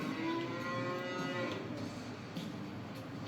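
Cattle on a Louisiana farm low and moo at a distance over a steady outdoor rumble, with a few faint calls drawn out across the scene.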